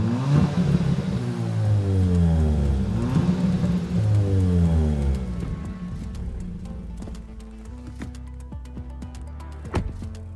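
A Kia Ceed GT with a 1.6 turbocharged gasoline engine and 7-speed dual-clutch transmission accelerates, its engine note climbing and dropping through gear changes, then settling to a quieter cruising hum with faint ticking road noise.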